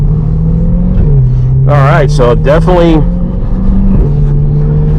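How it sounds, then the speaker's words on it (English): A Corvette C8 accelerates hard, its deep engine drone climbing in pitch and dropping at gear shifts, close and loud, while someone talks briefly over it. "she's definitely pulling good."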